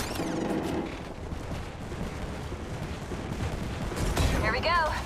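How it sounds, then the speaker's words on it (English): Fuse's knuckle cluster launcher firing in Apex Legends, dense rumbling bursts of explosive crackle under steady game noise, with a few whistling, warbling effects near the end and a voice talking over it. "Launching me knuckle cluster."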